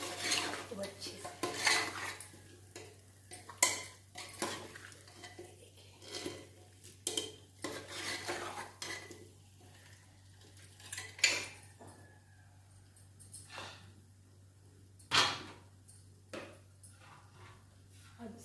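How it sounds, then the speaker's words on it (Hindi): Potato and tomato curry is stirred in a pan, a spoon repeatedly scraping and clanking against the metal in irregular bursts, some sharp knocks standing out, close and clear with no talk. "बाद में इसे ठीक से चलाना है खूब अच्छे से।"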